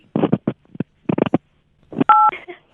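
A single telephone keypad key press gives a short, clear two-tone DTMF beep, coming right after a recorded voice prompt on an automated phone line. Speech is heard before the tone.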